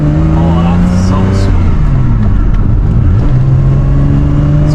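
A Porsche's engine hums steadily on a test drive after muffler and engine mount repairs, its tone sagging and recovering as the car shifts, while someone talks over it throughout.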